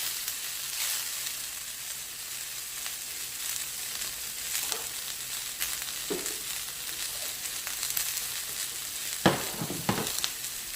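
Jamaican cabbage stir-frying in a hot pan, a constant close sizzle broken by irregular scraping and tossing sounds as the cabbage is stirred, louder clatter near the end.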